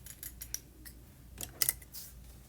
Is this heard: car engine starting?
no